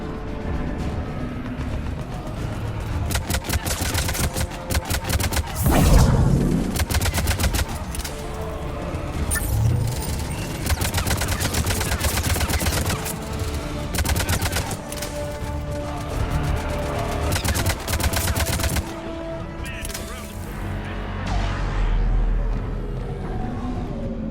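Dense sci-fi gunfire fills a Mass Effect 3 battle, with rapid automatic bursts and heavy blasts firing almost continuously at close range. Mechanical clanks and rumbling impacts mix in.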